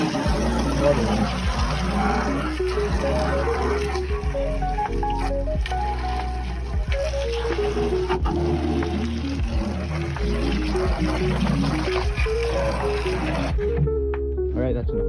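Tap water pouring and trickling into a glass aquarium tank with Dawn dish soap added, a steady splashing flow running for most of the stretch under continuous music.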